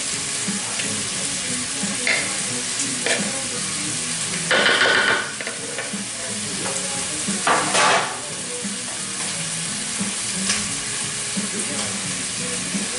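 Cauliflower tabbouleh salad with roast beef gets tossed and mixed in a bowl, producing a continuous rustling crunch with a few louder scraping bursts and no speech.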